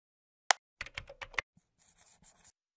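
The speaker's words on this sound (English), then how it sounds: "As you type in the search bar" A burst of computer keyboard typing entered into a software search bar: a sharp initial click, then a quick run of crisp keystrokes, followed by fainter, softer tapping, close and with no talk.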